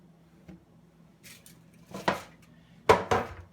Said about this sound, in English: Just prep a pan here real quick. Put down some foil.